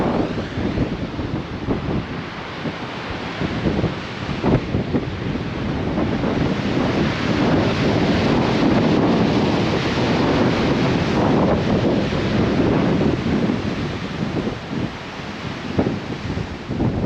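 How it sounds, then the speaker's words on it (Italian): Heavy surf roars below the Cliffs of Moher on Ireland's Atlantic coast, a continuous loud wash of breaking waves mixed with strong wind buffeting the microphone. "È impressionante il ruggito del mare."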